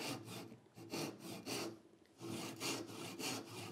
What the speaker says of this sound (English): I'm going to do my cross grain cut first, and I'm going to use a dovetail saw.